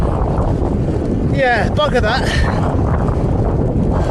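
Strong gusty wind roars steadily across the microphone while a cyclist rides, a dense rushing noise filling every moment, with a voice briefly breaking through.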